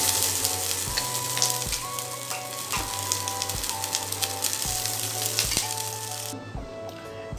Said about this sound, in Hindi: मैं अपना राइस को इसमें डाल दूंगी